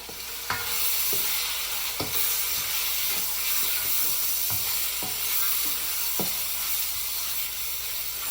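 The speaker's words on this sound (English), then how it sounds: "we're going to put the chicken in and let it cook through" Steady loud sizzling of chicken frying in a hot pan, with occasional clinks and scrapes of a utensil stirring, close up and without speech.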